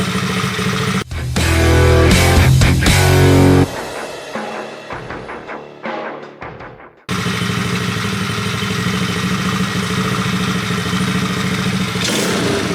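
A Coolster 110cc dirt bike engine with a freshly changed carburetor runs close by, revving hard and loud, dropping off to near silence around the midpoint, then settling into a steady, loud idle with no talking.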